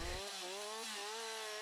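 A lumberjack's chainsaw, weighing 7 to 10 kilos, runs close and loud in the forest, its engine whine holding steady with slight shifts in pitch and no voices.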